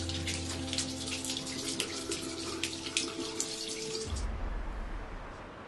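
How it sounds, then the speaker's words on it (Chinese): Water runs steadily from a broken tap with a splashing hiss into a sink, then the flow cuts off near the end, leaving quieter background noise. "求问，水龙头坏了，"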